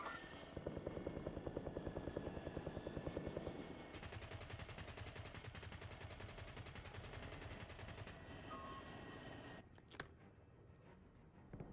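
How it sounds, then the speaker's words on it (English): Enemy attack helicopter in Black Ops 6, a dense rapid rotor chop and sustained gunfire-like rattle filling the scene, loud and continuous before thinning out near the end. "Enemy attack helos in the airspace."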